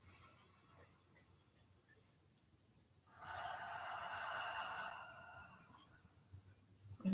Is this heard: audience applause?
no